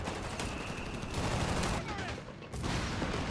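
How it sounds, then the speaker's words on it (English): An artillery barrage pounds a flak position in the real-time strategy game Company of Heroes 3, a dense rumbling stream of explosions and battle noise at moderate volume, with no talk over it. "Oh, good barrage on this flak."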